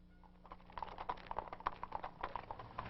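Horse hooves clip-clopping on a town street, a steady run of sharp, evenly spaced knocks at a moderate distance growing slightly louder, with no voices over them.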